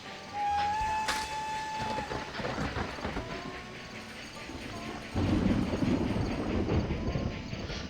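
A train runs in Railroad Tycoon 3 with rhythmic clattering wheels and a rolling rumble, plus a short whistle-like tone near the start, and the clatter grows louder partway through.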